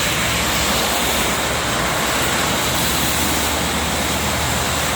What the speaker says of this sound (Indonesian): Lumayan nih hujannya. Hujannya deras sekali.